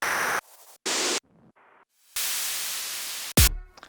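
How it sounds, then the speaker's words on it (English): White noise chopped into bursts over a vocal chop in a music production, giving hard-edged blocks of hiss that switch on and off in an uneven rhythm, loud and clean, with a short thumping hit near the end. "let's add some white noise playing over the vocal chop thing"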